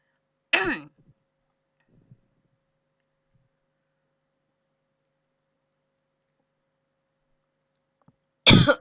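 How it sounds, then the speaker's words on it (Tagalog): Two sharp coughs stand apart, one near the start and one at the very end, with near silence and a few faint clicks between. "Ako naririnig yung ubo ko."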